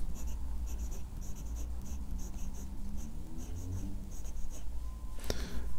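A Namisu Nova aluminium fountain pen in red with a fine steel nib scratches across paper in short, rhythmic strokes, close and fairly quiet, with a faint steady room hiss behind it.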